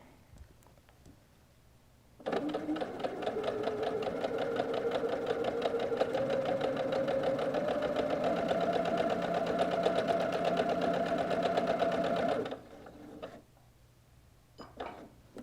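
Home sewing machine stitching seams on mitered frame quilt napkins, a steady whirring run of about ten seconds with a quiet pause before and after, no talking.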